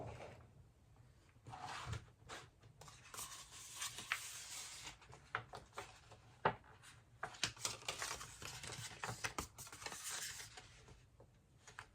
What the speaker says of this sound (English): So I'll take my protective sheet off.